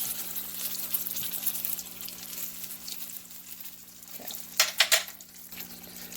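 A breaded vegan chik'n patty fries in hot oil with a steady, fairly quiet sizzle, broken near the end by a few louder crackling pops and spatters.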